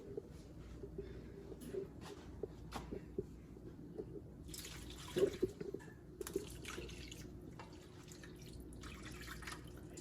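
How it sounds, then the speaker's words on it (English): Water from a measuring cup pours and trickles into a roast beef pan, a soft steady splashing with faint drips, fairly quiet and heard alone without talk. "I added 2 cups of water"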